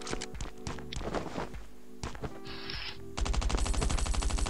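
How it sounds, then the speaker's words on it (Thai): Footsteps in the survival video game Last Island of Survival patter in a quick steady rhythm, then turn louder and denser, mixed with game effects and bursts like gunfire, with no talk. "เสียงเท้า"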